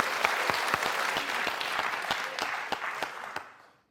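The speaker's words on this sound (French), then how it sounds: "permettez-moi d'applaudir" A studio audience on a French quiz show breaks into loud, full applause with sharp individual claps standing out, then fades away to silence near the end.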